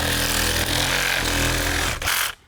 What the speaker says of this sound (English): what we're going to do is we're going to take our Sawzall,